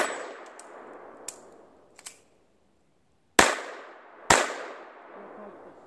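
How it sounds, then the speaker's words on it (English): Pistol shots strike steel targets at a shooting range during a one-to-five drill, a few faint pings early, then two loud sharp reports each followed by a bright ringing clang that decays slowly. "Our first target gets one shot. Second target gets two shots. Third target gets three."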